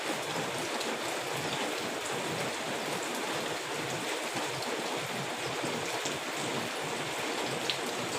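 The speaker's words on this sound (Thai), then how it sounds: "ฝน ตกตั้งแต่เมื่อคืนนี้ยังไม่หยุดเลยนะครับ" Steady rain after a night-long downpour in Nakhon Phanom, a dense even hiss of drops falling on surfaces that stays constant and fairly soft throughout.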